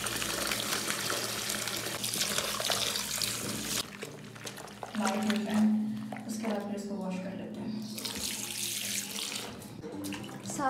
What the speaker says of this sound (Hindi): माइजा को मैंने शावर दिला दिया